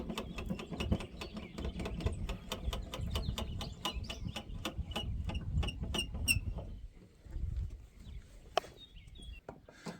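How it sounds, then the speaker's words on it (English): The manual cowl flap crank in a Grumman Wildcat FM2 fighter cockpit ratchets in a rapid, steady run of sharp close clicks for about six seconds, then slows to a few scattered clicks and mechanical rattles. "we have the cowl flap, which is a manual crank."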